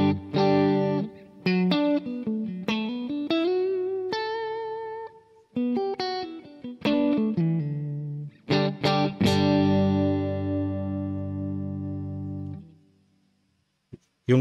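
Electric guitar, a Stratocaster, played through the natural preamp of a Boss ME-90 multi-effects unit: loud, sustained clean-edged notes and bending melodic phrases with sharp pick attacks, ending on a long ringing chord that fades out.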